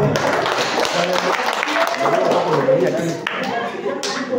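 Congregation clapping in a church during a sermon, a busy patter of hands mixed with voices and cheering throughout, moderately loud.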